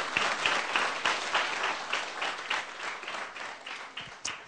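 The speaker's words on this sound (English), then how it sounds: "That's worth a round of applause, isn't it?" An audience at a Groovy metaprogramming conference talk claps after the session, a moderate round of applause with individual claps audible in an uneven rhythm, slowly thinning toward the end.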